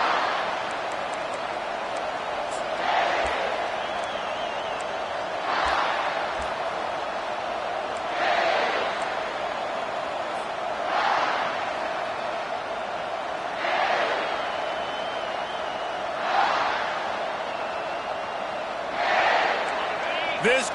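Football stadium crowd giving a loud welcome to the visiting team at the opening kickoff, a steady broad roar with rhythmic swells every few seconds, like chanting or stomping, sustained throughout.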